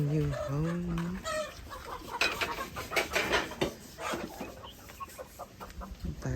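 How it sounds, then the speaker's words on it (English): Chickens cluck and call on a Zimbabwean homestead, several close, bright bursts early on, then scattered softer clucks over rustling outdoor noise. "We got some chickens."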